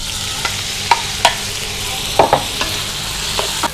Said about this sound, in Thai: พอน้ำมันร้อนแล้วให้เรานำหมูที่เราหมักไว้ลงไปผัด